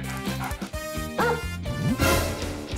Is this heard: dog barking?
yes